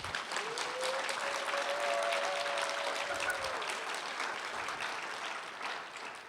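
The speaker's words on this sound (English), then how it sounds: "Please join me by giving a warm round of applause and welcome to our panel for this afternoon." An audience claps steadily and fairly softly in a hall to welcome an afternoon panel, the dense applause holding for several seconds before tapering off.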